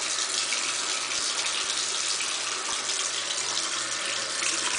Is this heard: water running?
yes